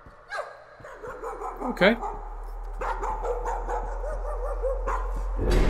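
Dogs bark and yip in the Layers of Fear video game, several sharp close barks scattered through the scene while someone speaks over them.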